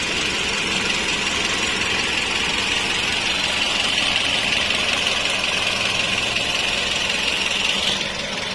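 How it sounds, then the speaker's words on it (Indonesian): A Toyota Vios Limo engine, an ex-taxi car, idles smoothly and steadily at close range, a constant hum with a faint high whine and no talking. "Jadi kondisi mesin kering halus, enak."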